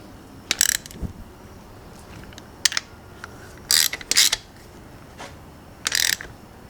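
Ratchet clicking as it tightens cylinder head bolts on a classic car engine during a home rebuild, several short crisp bursts of rapid clicks separated by pauses, close and moderately loud.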